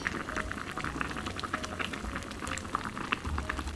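A pot of jjolmyeon noodle broth with egg at a rolling boil, a steady close bubbling and popping with soft liquid churn throughout, no voices.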